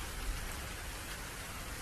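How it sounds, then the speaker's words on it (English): Steady rain falls continuously, a dense even hiss of drops with no other sounds, moderately loud and close throughout. "It is still raining, but it's gotten better than before."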